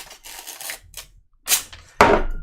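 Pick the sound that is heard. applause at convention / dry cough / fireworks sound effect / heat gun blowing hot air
fireworks sound effect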